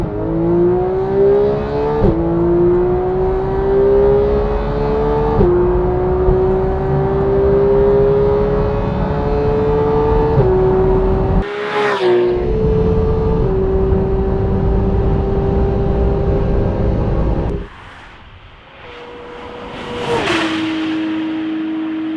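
A Porsche 911 GT3 of the 991 generation accelerates hard on the Autobahn, its engine note climbing steadily through several gears with brief dips at each upshift, loud and close, before a sharp lift-off and another surge.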